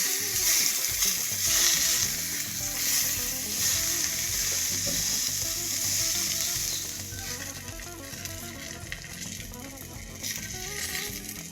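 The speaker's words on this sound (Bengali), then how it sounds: "সেম প্রসেসে আমি বাকি যে 2 পিস বেগুন ছিল সেই 2 পিস বেগুনও ভেজে নিচ্ছি।" Eggplant slices fry on a tawa with a continuous close sizzle and crackle, plus occasional stirring scrapes, easing slightly toward the end.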